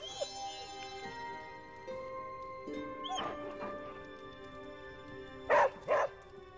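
A dog in the game Marvel's Midnight Suns gives a few short yips and barks, with two louder barks near the end, over a soft tonal music background.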